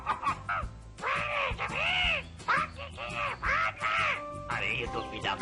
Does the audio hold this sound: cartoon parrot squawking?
yes